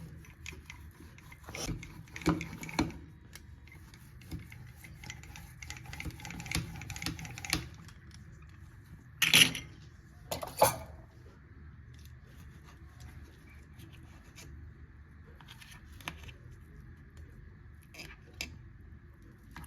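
A knife cuts set sesame and jaggery gajak (tilkuta) into pieces, giving scattered crunchy taps and cracks at an uneven pace, with two sharper snaps midway and quieter scrapes between, no talking.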